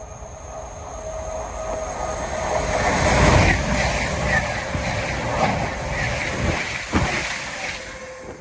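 A passing train on the 13:07 Edinburgh to Plymouth service at Sawmills, Derbyshire, rumbles in and swells to a loud peak as it goes by, then trails off with rattling wheels and a sharp clank near the end, with faint talk underneath.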